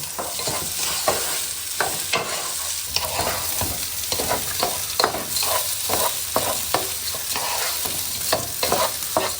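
Dry rice grains being stir-fried in a pan for a home-cooked dish: a continuous sizzle broken by frequent rhythmic scraping and stirring strokes, close and clear with no talking.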